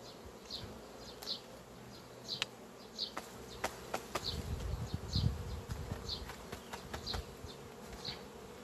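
Honeybees buzz around queen-rearing frames, with soft, overlapping wingbeats and brief close passes above a steady outdoor background.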